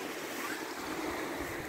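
A mountain river runs beside a pedestrian footpath in Switzerland, a steady, full rush of water with a faint windy edge and no voices.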